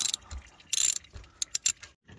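An 8mm socket on a ratchet loosening the coolant drain valve on an ATV, giving sharp, rapid clicking bursts in uneven spurts with brief pauses, close and loud.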